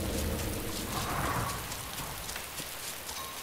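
Loud, heavy rain in DayZ pours down in a thick hiss, strongest at first and easing slightly, with a faint low rumble of thunder beneath it.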